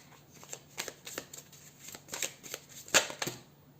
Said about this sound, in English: So let's shuffle some more cards to get more.